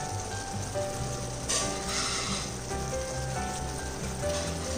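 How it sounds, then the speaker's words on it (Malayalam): Vinegar and masala boil vigorously in a pan for tuna fish pickle, a dense continuous sizzling and bubbling close by, steady with a brief surge partway through. "ഇപ്പോൾ നല്ലതുപോലെ തിളച്ച് വന്നിട്ടുണ്ട്."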